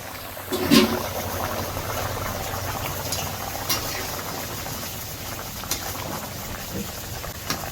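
A Bengali curry of shing fish with potato and eggplant bubbles on the stove, a close, continuous boil with a soft knock near the start and occasional faint clinks.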